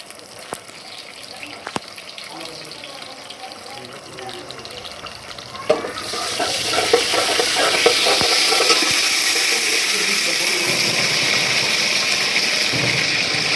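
Mustard seeds crackle in hot oil: a quiet stretch with a voice speaking gives way to a loud, steady sizzling hiss scattered with small pops that carries on to the end.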